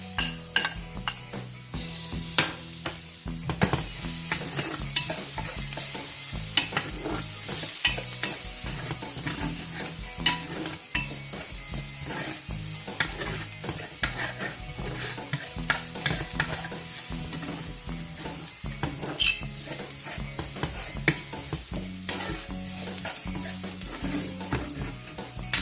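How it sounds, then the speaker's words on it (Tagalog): Ginger and garlic fry in oil in a pan, giving a steady soft sizzle with frequent stirring scrapes and occasional clinks of a utensil against the pan, heard close up without talking. "I will fry my ginger. Okay. And also the garlic."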